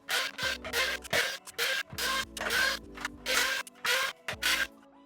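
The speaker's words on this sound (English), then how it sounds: "We're going to start by turning the toy over and removing all of the screws on the back of the toy." Screws being removed from the back of a plastic Mandalorian toy mask, a series of about nine short ratcheting, scratchy bursts with a low whirring tone, like a small powered screwdriver, close up and separated by brief pauses.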